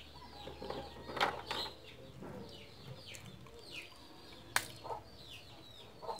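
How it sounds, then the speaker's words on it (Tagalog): Rooster and hen calls from somewhere nearby, a series of short bursts and clucks over faint background noise. "Pag may naririnig kayong mga tilaok ng manok."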